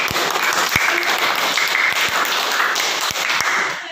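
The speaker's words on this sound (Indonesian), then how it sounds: "Oke, aplaus." A classroom group applauding, dense continuous clapping from many hands, fairly loud and close, holding steady for the whole stretch with no talking over it.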